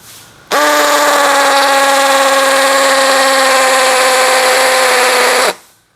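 A cordless impact drill, DCA ADJZ2035i, set to speed 2 in hammer mode with a 10 mm bit, whines loudly and steadily for about five seconds, starting and stopping abruptly.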